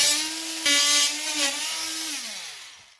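A power tool cuts a hole in drywall for an ethernet jack, giving a close, buzzy whine with a strong steady pitch that dips and then winds down and fades at the end.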